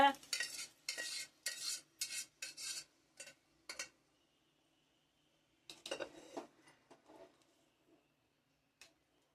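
A spoon stirs snake gourd kootu in a cooking pot with quick, repeated scraping strokes, first in a dense run, then a pause, then a few scattered stirs that trail off into quiet.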